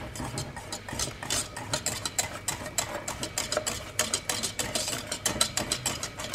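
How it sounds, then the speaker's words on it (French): A spoon scrapes and stirs chocolate cream in a pot, a quiet, regular series of short rhythmic strokes, roughly two or three per second, with faint background hum. "on mélange."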